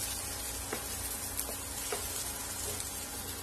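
Cluster beans with lentils (paruppu usili) roast in ghee in a pan, giving a soft, steady sizzling hiss with a few faint clicks of stirring, quiet and continuous.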